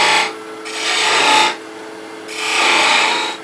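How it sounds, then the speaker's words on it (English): A skew chisel cuts a V-groove into spinning wood on a lathe, producing two loud, close rasping bursts of shearing and scraping separated by the quieter hum of the turning wood. "I'm going to go ahead and I'm going to mark a V-cut with this skew."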